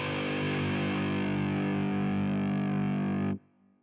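A sustained, distorted neurofunk synth preset chord holds steady and loud for over three seconds through a C-verb reverb, then cuts off into a short reverberant tail.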